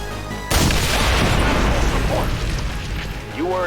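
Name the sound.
exploding tanks in video game XCOM 2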